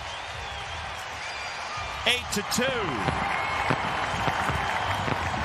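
Baseball stadium crowd roaring after a Yonder Alonso home run to deep right field in 2019, a broad steady cheer with announcer commentary talking over it.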